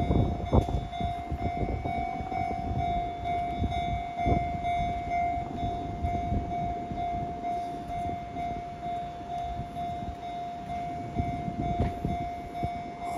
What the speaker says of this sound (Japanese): はい来ました青のシンフォニー